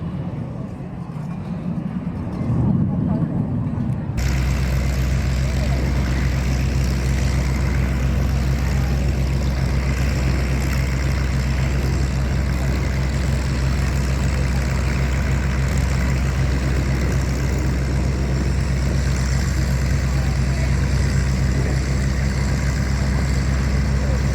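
A Canberra jet aircraft passes at the Temora air show, its engine opening abruptly into a loud, continuous roar with a deep steady drone that holds for some twenty seconds.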